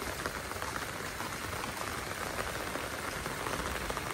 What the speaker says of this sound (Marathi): हे बघा जाम पाऊस होता